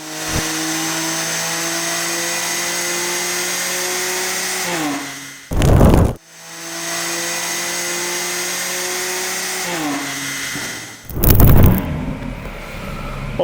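A BMW S55 engine in a G80 M3 with a stage 1 tune and single mid-pipe revs on a dyno in two long loud pulls, each rising steadily in pitch. Each pull ends in a sharp burst of exhaust crackle before the next, with no talk.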